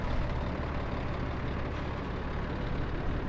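A lorry's heavy engine idles and rumbles steadily at close range while a boxed tree is lifted onto it, a continuous low drone with no pauses.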